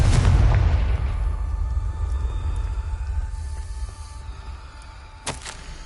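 A Confringo blasting spell bursts in Hogwarts Legacy with a loud, booming explosion that rumbles and slowly fades, followed by a sharp, short pop near the end.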